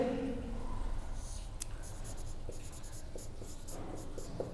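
Chalk writes on a board in short, soft scratching strokes with light taps, faint and close in a quiet room, with no talk.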